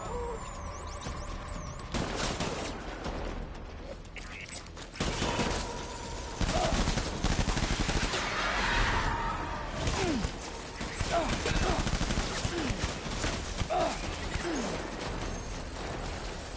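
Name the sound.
gunfire after an order to open fire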